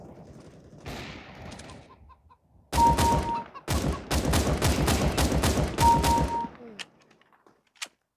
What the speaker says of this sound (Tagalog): Ang dami manok rito,